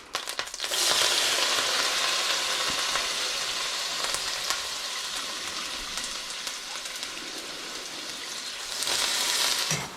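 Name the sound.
leeks frying in hot butter on stovetop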